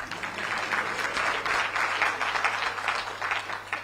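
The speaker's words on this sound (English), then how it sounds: "I want you to clap on this." Audience applause at an environmental diplomacy symposium in Nairobi, steady mid-level clapping from a crowd sustained for several seconds, with a constant low hum underneath.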